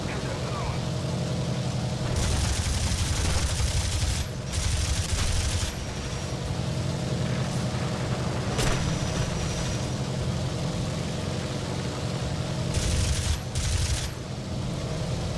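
Bomber's rear and side gunners in War Thunder firing machine guns in long bursts over a low, droning aircraft engine, sustained rattling fire starting and stopping several times, fairly close.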